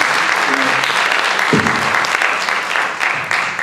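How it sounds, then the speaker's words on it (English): Steady applause from an audience at a panel discussion fills the whole stretch, loud and dense, with a faint voice briefly underneath near the middle. "Have a round of applause."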